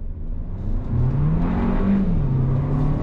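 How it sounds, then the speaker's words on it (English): A 2022 Hyundai Kona, front-wheel drive, pulls away under throttle, its engine note rising steadily into a strong whirring drone heard from inside the cabin, loud and continuous with no speech. "And then we're gonna go on throttle right here, right now."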